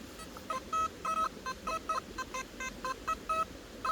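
A metal detector gives a run of short electronic beeps during a treasure hunt in Ayrshire, Scotland. The tones vary slightly in pitch and come in uneven, stuttering bursts, fairly faint over a steady background hiss.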